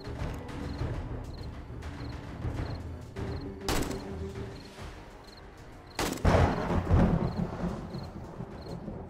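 Gunshots in 7 Days to Die during a zombie horde night, scattered reports over a low rumbling background, with two especially loud, sharp blasts standing out near the middle and later.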